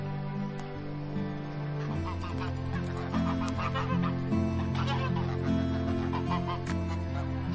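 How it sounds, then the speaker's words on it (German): Game audio from Farm Manager 2018: a layered stream of goose honks and clucking poultry calls over steady background tones, repeating throughout at moderate volume. "Gänse, Gänse, Gänse."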